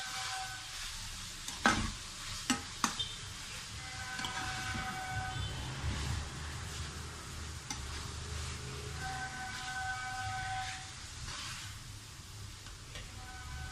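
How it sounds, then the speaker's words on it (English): Spice paste and vegetables being mixed in a pan, with a soft, steady sizzle of frying under a few sharp clinks of a spoon against the pan early on, close and fairly quiet with no talk. "Once you have added the paste, mix it well with the vegetables."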